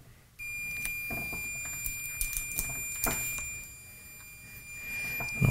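A multimeter continuity tester on a failed UPS during a teardown gives a steady, unbroken electronic beep that holds for several seconds, with light clicks of probes being handled around it.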